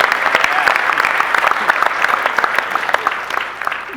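A room of people claps at a morning meeting, a dense, lively burst of applause with individual sharp claps audible, fading slightly toward the end.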